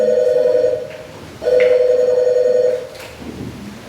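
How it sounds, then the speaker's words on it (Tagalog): A telephone rings loudly up close, two long electronic ring bursts separated by a short pause, with a brief faint rustle afterward. "nitingog ang telepono"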